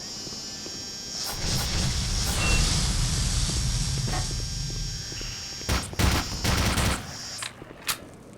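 Rapid bursts of automatic turret gunfire in the video game Black Mesa, loud and sustained over a low rumble, then breaking into a few short separate volleys near the end.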